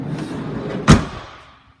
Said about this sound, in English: As you see, twin sliding doors on this one.